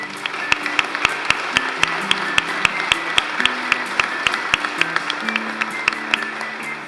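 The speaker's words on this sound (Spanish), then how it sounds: "por eso también les pido un aplauso para mi amigo Gustavo Íñiguez" An audience at a book presentation for Cuentos de Cuarentena 2020 applauds for Gustavo Íñiguez, a sparse, sharp clapping with distinct claps in a loose rhythm over a quiet murmur.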